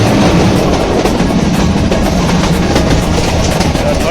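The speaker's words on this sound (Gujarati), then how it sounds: "એટલી બધી ટ્રેન નગર હલે નહીં, જબરજસ્ત ટ્રેન હલે છે" A passenger train runs fast on the route toward Satadhar, heard from inside. Its heavy rumbling roar and rattling clatter are loud and steady, and a faint rhythmic clickety-clack comes from the tracks underneath.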